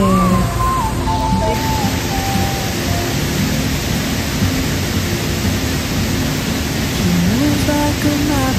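At Balinit Falls the waterfall gives off a loud, unbroken roaring rush that fills the whole scene at close range, with faint tones rising now and then over the steady wash.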